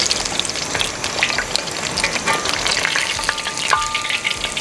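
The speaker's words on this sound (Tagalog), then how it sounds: "Nakita ninyo yung tilamsik na yan, papaikot" A pork leg deep-frying in hot oil gives a loud, dense sizzle with sharp spattering pops and crackles throughout, close and unbroken, no one talking.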